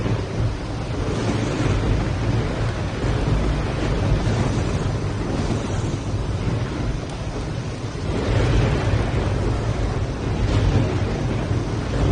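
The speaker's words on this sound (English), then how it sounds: "Storm's driving me nuts" Thunderstorm weather in the video game Risen, a steady loud roar of rain and wind rushing without pause, swelling slightly near the end, with no voices.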